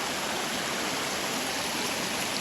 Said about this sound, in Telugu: ఎట్టకేలకి వాటర్ ఫాల్స్ దగ్గరికి అయితే వచ్చేస్తామే